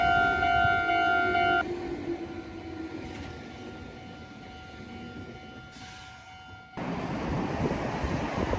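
A train rumbles past close by at a crossing in Japan with a steady, loud roar, a high tonal whine fading early, then a surge of noise as more cars pass.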